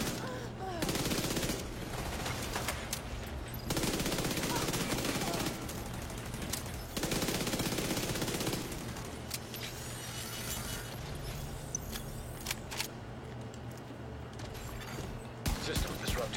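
Sustained automatic gunfire rattles through a video game battle in long dense bursts with brief gaps, loud and close, while a voice talks over parts of the action.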